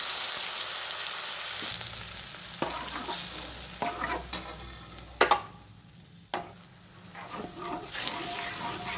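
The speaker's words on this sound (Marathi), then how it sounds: "कांदा, टोमॅटो भाजून पेस्ट केलेला तर तेलामध्ये टाकत आहे." A paste of roasted onion and tomato hits hot oil on a low flame for a potato bhaji, giving a loud, steady sizzle broken by the clatter of stirring and a few sharper spatters.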